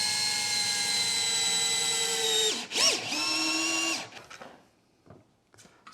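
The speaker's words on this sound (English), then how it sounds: "Let me actually try to drill that out." A power drill bores out a hole in a 3D printed wrench rack. Its high whining motor runs steadily, dips and surges briefly mid-way, then spins down and stops, leaving a few faint clicks.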